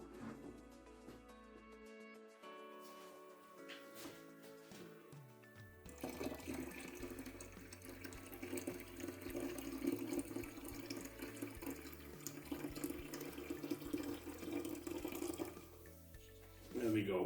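Hot water running from a tap into a Pinter brewing keg, a steady splashing flow that grows louder and fuller partway through, with faint voices in the background.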